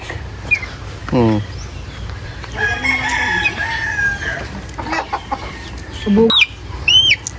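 Free-range chickens on a farm, a close rooster crowing once loudly, with scattered clucks and squawks around it and people talking nearby.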